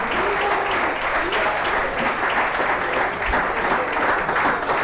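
Steady, dense audience applause at a homebrewing contest awards gala, a large crowd clapping continuously at even loudness throughout with no letup.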